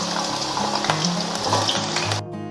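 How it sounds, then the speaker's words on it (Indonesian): Washed sliced potatoes frying in hot oil: a loud, continuous sizzle and crackle close up, with a low hum beneath, cutting off abruptly near the end. "Kalau sudah dicuci, sekarang langsung aja kita goreng."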